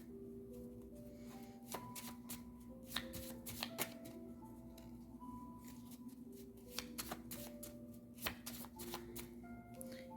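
A deck of tarot cards is shuffled up close in soft, rapid riffles and flicks over soft tonal background music, quiet and continuous throughout.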